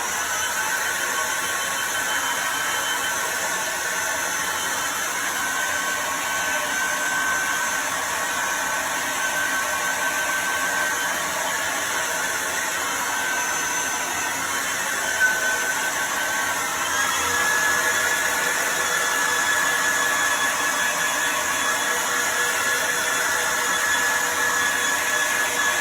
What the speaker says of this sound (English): So I'm going to plug in a hairdryer that I have with me.